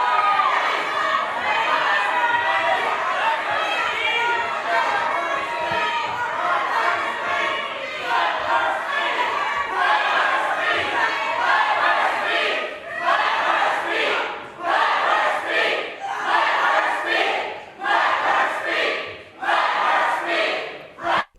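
A large crowd in a legislature gallery shouts and chants loudly and without pause, in rhythmic bursts that grow more pulsed toward the end.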